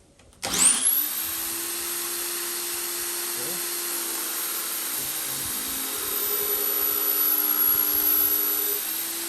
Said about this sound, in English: I'm just going to grind it a little bit just so you can see how it works.